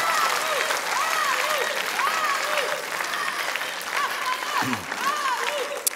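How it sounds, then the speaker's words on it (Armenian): A studio audience keeps up loud, sustained applause, a dense wash of clapping from start to finish, with a brief low thump near the end. "Դե եկեք եւս մեկ անգամ ծափենք, ապշելու բանը։"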